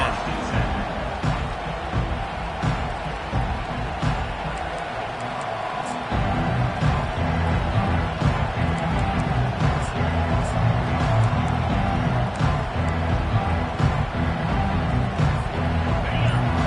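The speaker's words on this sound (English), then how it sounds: "This crowd trying to show them what it's going to be like all day in this house." Stadium crowd in the NCAA 25 college football video game, a dense continuous roar that swells louder partway through, with commentary voices over it.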